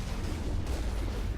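Heavy cannon fire from the Mako vehicle in Mass Effect, a dense, booming rumble of blasts and low explosions running continuously through the short stretch, with no talk.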